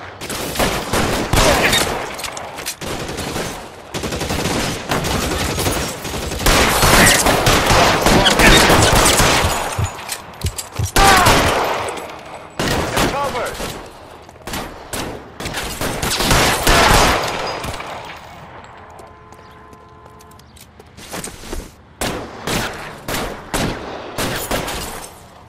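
Gunfire in the crime video game L.A. Noire on PS4, repeated loud bursts of shots in waves separated by quieter gaps, mostly without talk.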